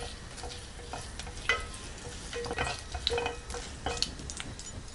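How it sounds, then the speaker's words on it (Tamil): Mustard seeds, chana dal and urad dal temper in hot oil for sundal, a soft, continuous sizzle dotted with small pops and occasional stirring scrapes, with no voices. "சுண்டல் தாளிக்கிறதுக்கு எண்ணெய் நல்லா காஞ்சதுக்கப்புறம் 1/4 டீஸ்பூன் அளவுக்கு கடுகு, கடலைப்பருப்பு, உளுத்தம்பருப்பு"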